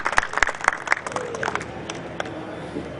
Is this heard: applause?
yes